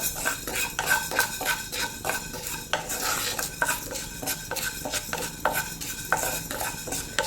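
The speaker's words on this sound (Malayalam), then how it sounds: "ഉലുവായി ഒന്ന് വറുത്തെടുക്കാം" Fenugreek seeds dry roasted in a pan for rasam powder, a spoon scraping and stirring in steady repeated strokes with sharp metallic clinks and a light dry rattle of seeds, close and fairly loud, no talking.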